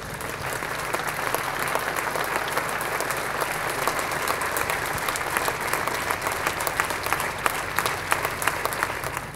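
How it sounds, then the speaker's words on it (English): Outside Old Trafford's Stretford End, a crowd applauds the award-winning sculptor Alan Herriot as his Jimmy Murphy statue is unveiled. Sustained applause with sharp individual claps standing out runs throughout at a steady, fairly loud level. "Please, will you give a round of applause to the award-winning sculptor,"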